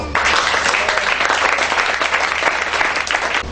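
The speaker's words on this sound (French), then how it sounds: "Donne-moi des acclamations très fortes" A church congregation applauds and cheers loudly in a dense, sustained roar of clapping and voices that continues throughout.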